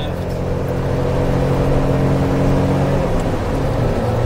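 A Mitsubishi Bravo microvan with a naturally aspirated engine runs at full throttle, a loud, steady, strained drone heard from inside the cabin, holding at one pitch throughout without climbing further.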